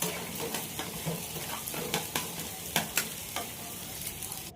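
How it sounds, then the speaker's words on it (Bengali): An egg fries in a pan after being cracked and salted, with a steady sizzle under repeated sharp scrapes and clinks of a spatula stirring against the pan. "এবার ডিমটাও একটু আমরা ভেজে নেব,"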